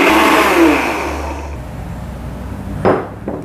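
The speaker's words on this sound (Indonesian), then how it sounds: "Saya masukkan blender mini buat bumbu." A mini blender grinding garlic with 100 ml of water for tapioca crackers whirs steadily and loudly for about a second and a half, then stops, followed by a couple of clunks as the jar is handled.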